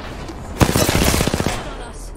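Rapid automatic gunfire in the Apex Legends battle royale game, a loud close burst of quick repeated shots lasting over a second before trailing off, with no talking.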